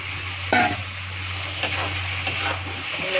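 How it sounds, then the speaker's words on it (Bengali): Spices sizzling steadily in a pan as boiled potatoes are stirred in, with a few scraping clunks of a spoon against the pot under a low hum. "এখন আলু সিদ্ধটা এর মধ্যে ছেড়ে দিচ্ছি"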